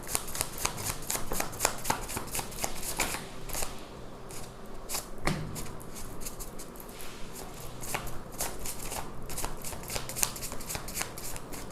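Tarot cards are shuffled by hand in a steady run of quick, crisp riffling flutters and soft slaps, close and clear, with no talk over them.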